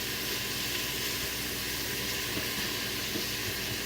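Meat searing in a very hot pan for jambalaya, a steady loud broadband sizzle and hiss that holds constant throughout with no talking.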